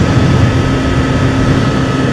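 A Kawasaki ZX6R motorcycle engine runs on a rainy commute, a loud, steady drone blended with heavy rushing wind noise, constant and close throughout.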